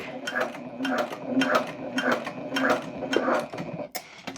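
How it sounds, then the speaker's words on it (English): A sewing machine stitches diagonally across a crescent moon bag at normal stitch length, a steady close mechanical chatter with rhythmic bursts and brief pauses. "Put my stitch length back up to normal and go across to"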